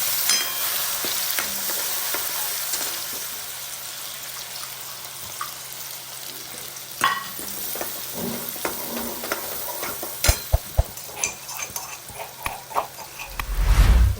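Chopped onion hits hot oil seasoned with cumin and asafoetida, giving a steady sizzle, then scattered clinks and scraping stirs grow louder toward the end.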